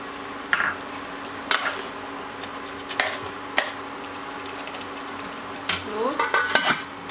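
A spoon stirs lamb paya gravy in a pot, giving several scattered scraping clinks against the metal at moderate loudness, with a cluster of quick scrapes near the end and a low steady background hum.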